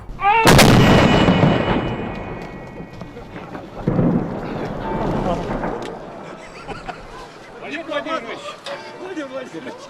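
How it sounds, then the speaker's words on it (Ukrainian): A holiday artillery salute fired in a large Soviet city for Victory Day: a loud, close boom with a long rolling echo, then a second blast about three seconds later, followed by fainter crowd noise. "Фактично єдиними святковими заходами були артилерійські салюти, які відбувалися у кількох великих містах СРСР"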